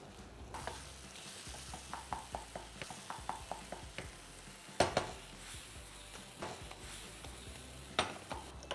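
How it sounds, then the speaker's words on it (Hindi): Brinjal cooks in a pan with a soft background sizzle and repeated sharp clinks and scrapes of a spoon against the metal, coming in a loose rhythm with a few louder knocks. "ये गया हमारा बैंगन सीधा पैन में। अब इसे करीबन 10 मिनट के लिए हमें पकाना है।"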